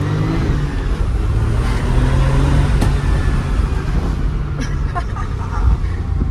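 A 1997 Porsche 993 Turbo S accelerates with a steady, loud engine roar that holds throughout, a rising whine layered over the deep rumble, with faint speech in the background.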